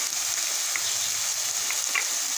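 Ground coconut and onion masala frying in oil, giving a steady, close sizzle with a few faint crackles and pops, no voices over it.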